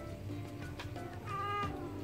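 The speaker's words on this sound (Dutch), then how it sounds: "Wat miauw." A cat meows a few times indoors, soft and fairly close, over a steady low background hum.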